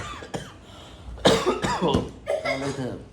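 A couple of sharp, close coughs from someone with a cold burst out, followed by some voiced throat sounds.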